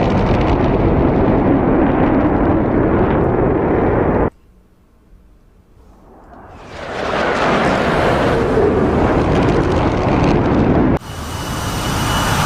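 Jet engine roar in DCS World, loud and continuous, cutting to near silence before a big rumbling bomb blast swells up and sustains, followed by another sharp loud cut of wide roaring noise.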